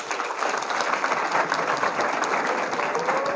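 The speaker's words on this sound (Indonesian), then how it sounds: "Tepuk tangan dong" Audience applause fills a hall for a woman who became president director of Indonesia's second-largest private bank, dense steady clapping throughout with no talk over it.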